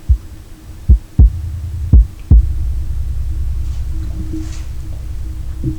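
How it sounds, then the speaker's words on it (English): A subwoofer plays a low-frequency test tone, a deep steady hum that swells in after a few loud thumps and holds near the bottom of the range without any talk. "We'll do a couple frequency sweeps, and you guys can make your assumptions from there."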